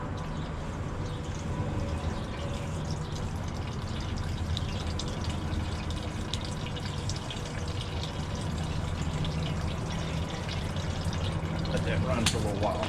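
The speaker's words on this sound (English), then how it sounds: "Oh, we're getting stuff out the drain plug." Coolant runs steadily out of a new radiator's drain plug, a continuous watery trickle and splash with light dripping, heard up close under people talking nearby.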